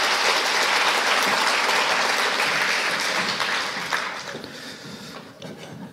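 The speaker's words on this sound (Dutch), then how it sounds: "En geef ze ook een hartelijk applaus." A loud, dense burst of audience applause greets panelists arriving on stage at a post-film discussion in De Balie, sustained for several seconds before thinning and fading toward the end.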